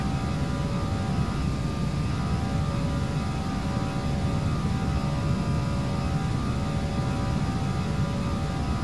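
Steady roar of an A320 jet taking off in the FSX flight simulator, a continuous dense engine drone with faint tonal whine, even and loud throughout without voices.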